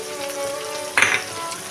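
Ground nut paste frying in hot oil in a pan, with a loud sizzling burst partway through as the paste hits the oil over a steady background hiss.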